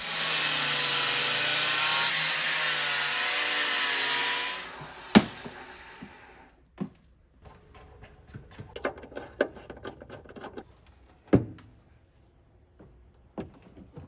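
A loud power tool grinds steadily for several seconds trimming a bin on a supercharged Mazda RX-7, then stops, leaving scattered knocks and clatters of handling that follow at irregular intervals.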